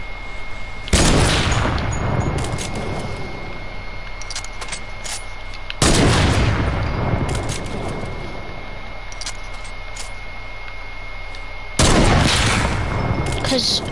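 Three heavy rifle shots in a video game, sniper and semi-automatic, each a loud close crack with a long decaying echo, spaced about five seconds apart over a quiet tonal hum.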